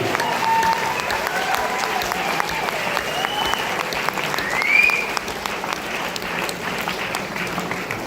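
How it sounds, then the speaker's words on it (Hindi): An audience at a DXN business seminar claps for the women in the crowd, a loud and sustained round of applause that swells briefly near the middle before carrying on steadily. "Please put your hands together. थोड़ा अच्छा सा ताली बजाइए"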